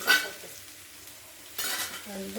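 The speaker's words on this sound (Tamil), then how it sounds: "உப்பு போட்டு கிழங்கையும் வெங்காயத்தையும் வசக்கிக்கணும்" Boiled potato and onion are sautéed with salt in a pan, with two short, close bursts of spatula stirring and scraping over a light sizzle and a quiet pause between them.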